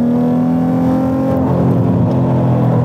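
A Nissan 350Z sports car engine revs up strongly under acceleration, a loud, continuous rising drone heard close with no talk over it.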